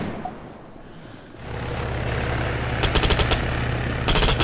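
Rapid automatic bursts from an MP7 PDW in ARMA 3 (RHS King of the Hill), two short volleys of sharp cracks over a steady low engine-like drone, fairly loud and close.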